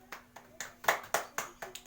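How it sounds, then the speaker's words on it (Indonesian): Children clapping their hands during an online Islamic religious education lesson held from home: six quiet, separate claps in a quick, slightly uneven rhythm with faint background hum between them. "Pintar, tepuk tangan."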